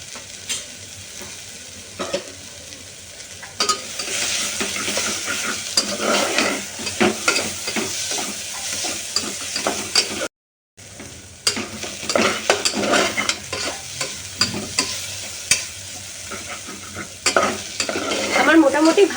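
Dalia being fried and stirred in a pan with tomatoes and eggplant, a steady sizzle with repeated scraping stirs running throughout, close and fairly loud, broken by one brief silent gap midway.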